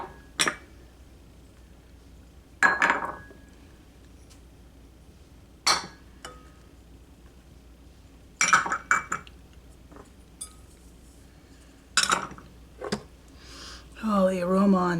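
Metal spoon clinking against a bowl while spice rub is stirred, a handful of sharp scattered clinks and scrapes with pauses between, close by; brief talk near the end.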